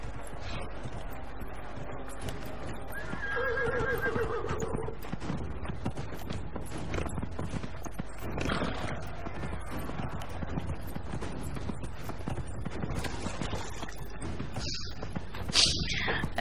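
Steady clip-clop of horse hooves in Dragon Age: Inquisition runs throughout under a muffled background hum, with a brief higher tone early on and a faint vocal sound near the end.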